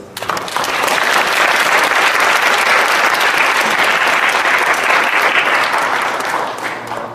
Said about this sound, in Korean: 이현학 신부님께 한번 박수